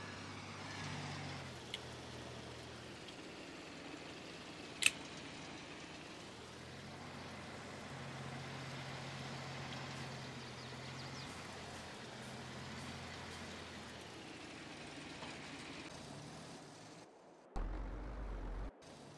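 A truck engine in Farming Simulator 22 rumbles steadily at a low level for a long stretch, with one sharp click and a brief shift in tone near the end.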